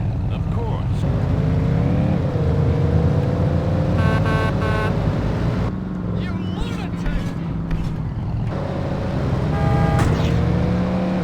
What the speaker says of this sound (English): the sound effects for the cars are good